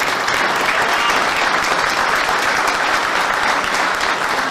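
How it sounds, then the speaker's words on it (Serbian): A large crowd at a political party convention in Užice applauds loudly and continuously, dense clapping filling the hall without a break. "Da pozdravimo budućeg premijera jednim jakim aplauzom."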